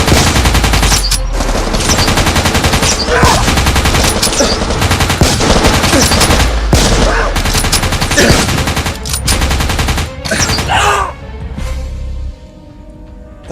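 Dense, sustained automatic gunfire fills a dramatized firefight, loud and close with rapid overlapping bursts that barely let up before tapering off near the end.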